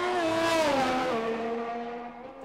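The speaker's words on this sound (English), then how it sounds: "Edgar then is the first driver to leave the pits on the soft tyres." A race car in a racing video game leaves the pits on soft tyres, a loud engine tone that sweeps and falls away over a couple of seconds.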